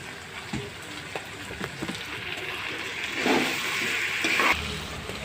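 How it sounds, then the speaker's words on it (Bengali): Water poured into a potato curry for aloo dum, a splashing, rain-like rush that swells in two bursts over a low sizzle, close and moderately loud. "দিয়ে ভালো করে কষিয়ে জল দিয়ে দেব।"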